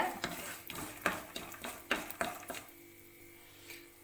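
Spatula scraping and clinking steadily in a pan as roasted peanuts are stirred into cumin-seasoned coriander rice, a rhythmic series of light taps, then a quieter stretch with a faint low hum.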